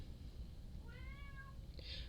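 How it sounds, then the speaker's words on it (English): A house cat gives a single short, faint meow, rising then falling, over low room hiss in a quiet indoor space, followed by a brief soft noise. "My cat, sorry."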